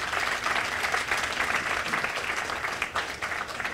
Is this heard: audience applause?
yes